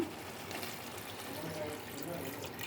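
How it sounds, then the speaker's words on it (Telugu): Water pours steadily into a cooking pot with a soft, continuous splashing trickle, close and quiet, without talk. "ఇప్పుడు నీళ్లు పోసుకుందాము"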